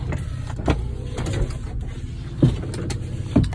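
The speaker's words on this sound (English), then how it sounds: "All the windows go up and down." Electric power windows on a used car with a damaged door and junk hinge run through their travel, a steady motor whine with soft thumps as the glass stops, close by in a quiet cabin.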